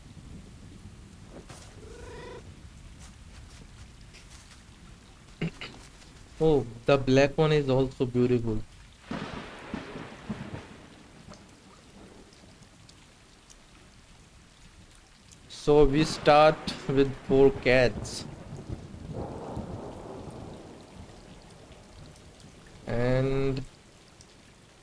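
In the video game Stray, heavy rain in the slums gives a steady soft hiss with low thunder rumbles underneath, quietly present throughout while someone talks over it in several bursts.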